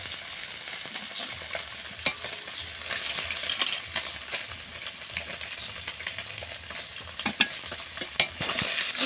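Katla fish pieces frying in hot oil, a steady close sizzle with scattered sharp pops and light scraping clicks throughout, no voices.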